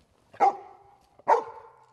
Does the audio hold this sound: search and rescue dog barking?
yes